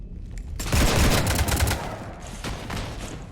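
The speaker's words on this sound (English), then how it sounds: "You want to stop shooting up my ship?" Sustained burst of gunfire raking a ship in the video game Mass Effect 3, a loud, dense barrage of rapid shots that swells after a brief lead-in and then eases to a lighter rattle, with no talking.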